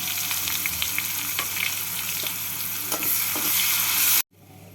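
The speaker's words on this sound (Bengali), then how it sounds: "পেঁয়াজটাকে এইভাবে লাল করে ভেজে নিলাম" Finely chopped onion fries in hot oil in a pan for a Bengali prawn and pointed gourd dish, a steady broadband sizzle with small crackles and a few stirring clicks before it cuts off abruptly near the end.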